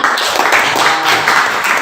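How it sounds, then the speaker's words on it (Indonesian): A class of students in an Indonesian classroom claps hands together, a dense, close patter of many claps sounding in quick, uneven waves without speech. "Tepuk tangan"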